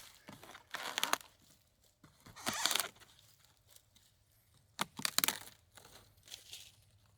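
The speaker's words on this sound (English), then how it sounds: "Now you can take your knife and you can cut into it." Knife blade cutting into a piece of wood, giving several short scraping, crunching cuts in bursts with pauses between, close and fairly quiet.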